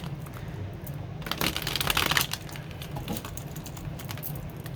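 Tarot cards shuffle close by in a continuous papery riffle with a louder burst of flicking in the middle, no talking.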